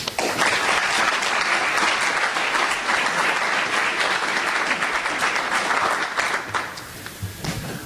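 An audience at an architecture symposium session applauds to welcome a speaker to the podium, with dense, steady clapping that holds throughout and thins slightly near the end.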